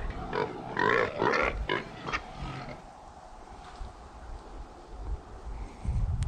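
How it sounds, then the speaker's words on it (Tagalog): A pig raised on a small farm grunts a few times up close in the first seconds, then outdoor ambience takes over with faint rustling and low noise. "mayroon silang baboy na inalagaan dito"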